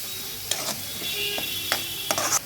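Broad beans with garlic chilli powder stirred and fried in a pan, giving a low steady sizzle broken by several sharp scraping stirs and clinks spread through the clip.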